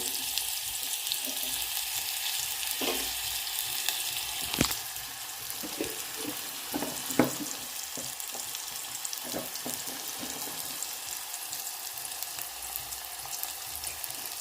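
Oil heated very hot in a pan for cooking brinjal fry and ennegai sambar sizzles and crackles steadily throughout, with occasional sharp clinks of utensils and no talking.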